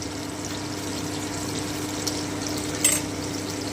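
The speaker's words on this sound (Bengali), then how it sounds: "এভাবে আমি সবকটা চিকেন ভেজে নিচ্ছি" Chicken pieces fry in a pan for butter garlic chicken, giving a steady, moderately loud sizzling hiss with a low background hum and one brief clatter near the end, no voices.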